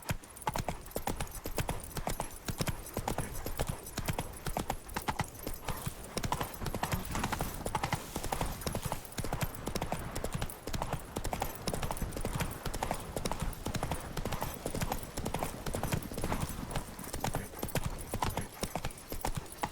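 Horse hooves clip-clop steadily on a road in the video game The Witcher 3: Wild Hunt, a continuous rhythmic trot heard up close for the whole stretch, with a brief whinny-like sound mixed in.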